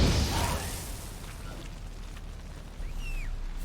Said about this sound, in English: Now for a shot of Igni.